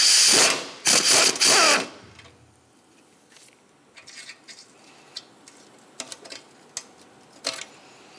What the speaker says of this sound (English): For this one, I'll use a twisty socket.